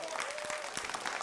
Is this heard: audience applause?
yes